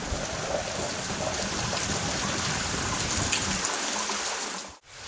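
Dense, loud rainfall pours continuously, a close and even wash that cuts off abruptly just before the end.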